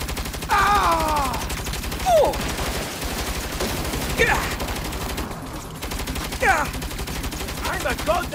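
Rapid turret gunfire in Saints Row rattles steadily throughout, a dense mechanical stream of shots under shouted voices from the game's characters.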